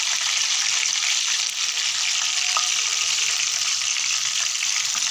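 Chicken pieces frying in hot oil in a restaurant-style chicken fry, a steady loud hissing sizzle that continues without a break, close up.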